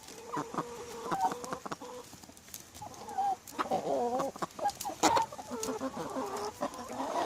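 Several chickens cluck and murmur close by, with short repeated calls overlapping in an irregular, busy pattern.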